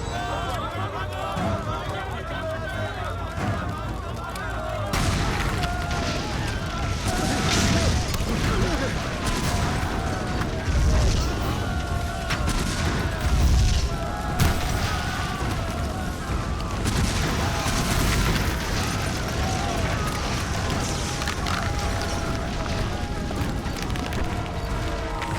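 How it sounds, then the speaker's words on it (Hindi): Explosions going off one after another at a site in an action film, with booms and gunfire-like bursts over a running, chattering crowd and shouting voices. "इस साइट पर एक के बाद एक धमाके होने वाले हैं"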